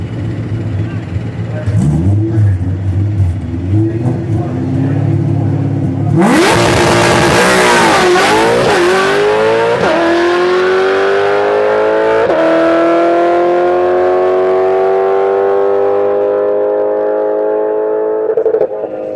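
A drag racing car at Rockingham Dragway idles with a low rumble, then erupts into a deafening full-throttle launch, its engine note climbing steadily as it accelerates away.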